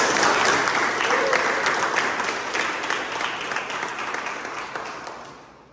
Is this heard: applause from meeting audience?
yes